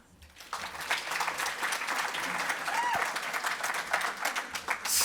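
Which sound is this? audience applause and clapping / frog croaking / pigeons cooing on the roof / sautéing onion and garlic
audience applause and clapping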